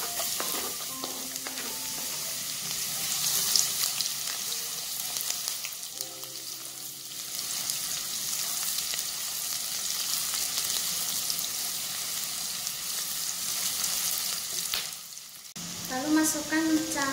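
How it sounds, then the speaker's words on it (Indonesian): Onions sautéing in hot oil for a cuttlefish dish, a steady loud sizzle with stirring scrapes throughout, a brief drop near the end before the frying resumes with clattering. "Panaskan minyak, lalu tumis bawangnya."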